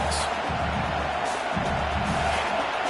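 Home crowd in a college football video game, Arkansas at Texas, roars continuously as the defense faces third down, a dense, loud, sustained wall of cheering with no break.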